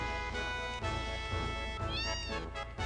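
Cats meowing in the Final Fantasy VII video game, several drawn-out meows in sequence over a steady game soundtrack, clear and close with no talk.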